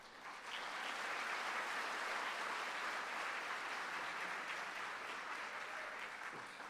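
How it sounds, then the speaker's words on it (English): Sustained applause from a middle school graduation audience, steady and full for several seconds with no talking over it. "If you can give a round of applause to Hadi Ali Jafar."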